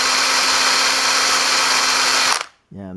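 A power drill boring a centered hole in an Austin king pin, a loud, steady high whine running for over two seconds before cutting off abruptly.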